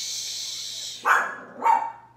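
Indoors, a dog lets out two close, sharp barks about half a second apart, after a stretch of low hissing background.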